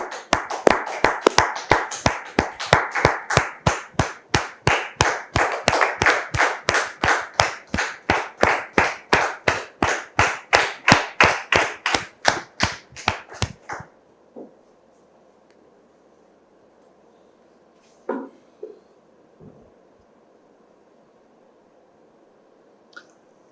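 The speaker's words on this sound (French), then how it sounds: "Recevons maintenant M. Kodjo sous vos applaudissements" Studio audience applause on a French talk show, a dense burst of clapping that holds for about fourteen seconds and then cuts off, followed by a quiet room with a few faint bumps.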